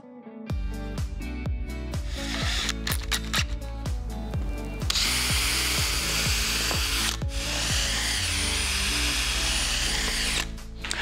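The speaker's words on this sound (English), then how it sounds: "I just pre-drilled the holes on the ends of the long 2x3s, that way they don't split" A power drill pre-drills holes into the ends of long wooden 2x3 boards for a shed door frame, with repeated short bursts of whirring close up, then a longer sustained run toward the end.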